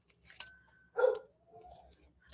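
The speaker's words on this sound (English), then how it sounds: "Let the barking commence." A dog barks and whimpers at a low level, with a couple of short yelps and a higher whine over faint background noise, no talking.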